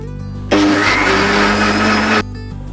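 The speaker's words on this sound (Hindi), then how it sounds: "तो ब्लेंडर को चलाते हैं" A blender whirs loudly and steadily for about two seconds, mixing black currant juice with black salt and water, starting and stopping abruptly between quiet moments.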